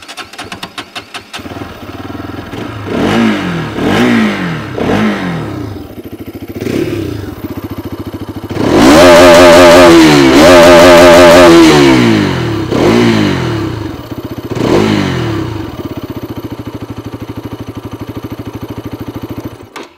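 A 2024 Bajaj Pulsar RS 200 motorcycle exhaust while riding: several rising revs through gear changes, then a long loud high-revving pull, then more throttle blips easing off, close and loud without talk.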